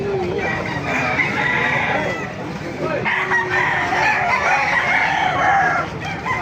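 An eight-month-old rooster crows loudly and close, twice in succession with long drawn-out calls, over clucking and scattered farmyard noise.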